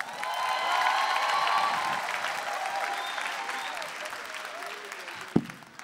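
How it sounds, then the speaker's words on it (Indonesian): Studio audience applauding a stand-up comedian at a televised comedy competition grand final, a sustained clatter of many hands under faint voices, tapering off near the end. "tepuk tangan buat Ardi Terwanda"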